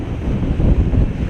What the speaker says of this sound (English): Big old waves crashing behind her.